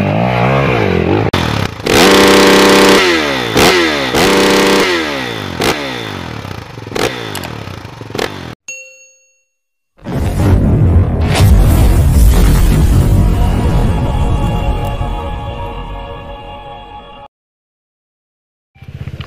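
Viar 250 SF motorcycle engine labouring up a slippery hill, loud revving with rising and falling pitch, a brief cut to silence, then a strong steady engine drone that fades out near the end.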